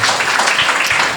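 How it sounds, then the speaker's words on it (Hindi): Church congregation clapping for the Lord during a Hindi sermon, a dense, steady wash of many hands applauding together without pause, loud and close throughout. "ताली बजाएंगे प्रभु के लिए।"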